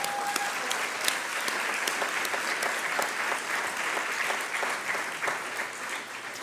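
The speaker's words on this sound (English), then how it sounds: "ask you to give a round of applause to the quartet that played earlier this" An evening awards-event audience applauds a string quartet, a sustained, even roar of many hands clapping for several seconds with crisp individual claps standing out.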